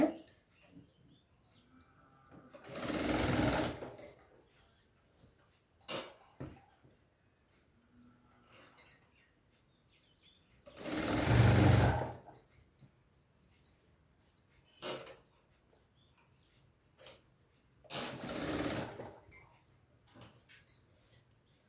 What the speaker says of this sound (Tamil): அப்படியே தையல் போடுங்க. முனையில் போடுங்க.